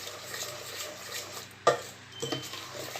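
Adai batter is mixed with onion and salt in a bowl: soft, close stirring with a couple of louder utensil clinks against the vessel.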